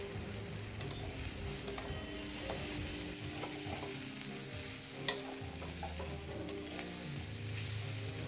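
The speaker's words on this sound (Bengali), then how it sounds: "সবগুলোই তেল মশলা যা ছিল সবগুলোই আমি এখানে দিয়ে আবারও ভালো মতো মিক্স করছি।" Instant noodles frying in oil with their packet spices while being stirred in a pan, a steady close sizzle with scraping stir strokes and a sharp clink near the middle.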